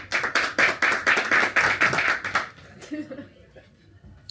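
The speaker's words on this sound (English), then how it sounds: "Give me a clap for a foreigner" Audience at a stand-up comedy show claps in a short loud burst for about two and a half seconds, then fades into scattered murmurs and faint voices.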